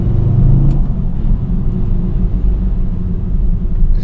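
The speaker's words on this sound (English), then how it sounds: "It does sound like something's rattling against something." Car engine with a DXD clutch, in second gear just after letting off the gas at about 3,000 RPM: a loud, close low rumble and drone with a faint rattling quality, no talking.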